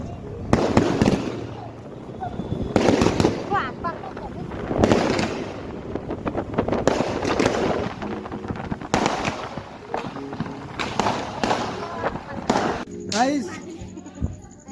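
Diwali firecrackers burst outdoors in about seven loud, sharp bangs spaced a couple of seconds apart, with people talking and wind noise in between.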